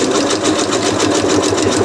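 Sewing machine stitching fabric for a drawstring bag, a loud, close, steady whirring with a fast, even mechanical pulse of the needle and no talking.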